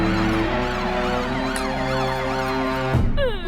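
A wailing emergency siren sweeps up and down continuously and loudly, cutting off abruptly near the end as a different tone takes over.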